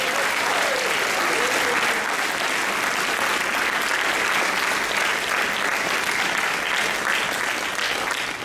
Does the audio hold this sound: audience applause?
yes